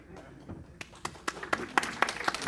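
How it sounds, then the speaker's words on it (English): An audience at a tech talk applauds, a moderate burst of scattered hand claps that builds in density and loudness over a couple of seconds, with a faint voice underneath. "Round of applause."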